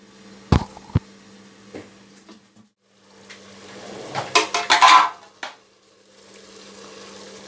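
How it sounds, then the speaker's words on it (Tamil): Chicken biryani masala with yogurt is stirred and sautéed in a pot, with sharp clinks of a utensil against metal at first, then a burst of wet scraping, stirring and sizzling before it settles. "நல்லா வதக்கி விட்டுருவோம்."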